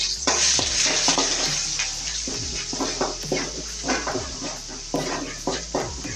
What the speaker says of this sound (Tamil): எண்ணெயில் நல்லா பொரிஞ்சோடனே இஞ்சி பூண்டை போடணும்